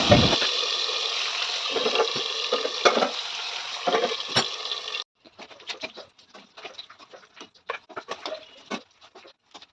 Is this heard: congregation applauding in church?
no